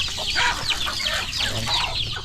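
Free-range chickens cluck and chatter busily as they are fed yellow corn, a dense close flock of overlapping short calls with farm background noise.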